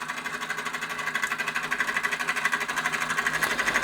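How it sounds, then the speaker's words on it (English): A copper-boilered Burnac Vulcan model steam engine runs steadily under steam, its rapid, even mechanical chuffing and clatter close and continuous throughout. "The copper boilered version of the Burnac Vulcan, under steam for the first time since I've had it, and running very well indeed."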